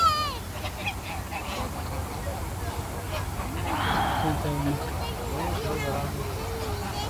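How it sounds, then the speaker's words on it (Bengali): Ducks on a large park lake honk and quack in scattered calls amid crowd babble and nearby talk, moderately close. "দেখেন এখানে অনেকগুলো হাঁস, হাঁসগুলোকে সবাই খানা দেয়।"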